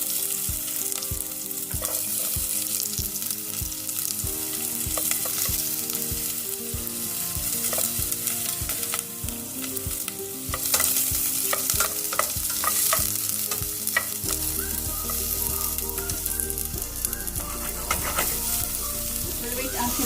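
Cooking oil heats and sizzles in a pan over medium fire while making Arabic lentil (adas) soup, a loud continuous crackle with sharp spits and stirring clatter, accompanied by background music with no talking.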